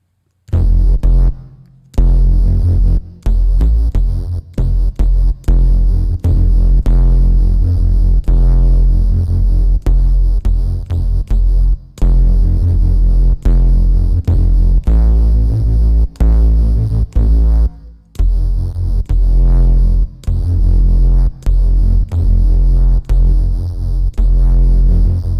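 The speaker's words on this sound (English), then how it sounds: "the distortion would come in slowly when I press a note and then stay set to max here" Sustained synthesizer notes from the Spire synth routed through its shaper distortion, played as a dense harmonic chord that holds loud and steady with brief gaps between notes.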